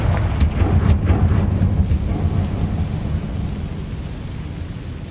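A Confringo blasting spell explosion in Hogwarts Legacy, several sharp crackling bursts early on over a heavy rumbling low roar that slowly fades, with no talking.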